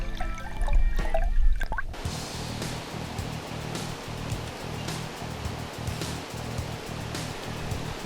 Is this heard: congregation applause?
no